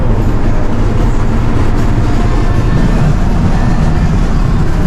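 Loud, continuous roar of wind and road noise buffeting through the open vent windows of a moving hot rod, a dense low rumble that stays steady and close with no voices.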